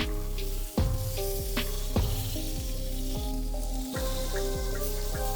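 Lamb brushed with rosemary and garlic sizzles steadily in a hot pan, with sharp clacks and renewed bursts of frying each time the pieces are flipped, repeating every second or so.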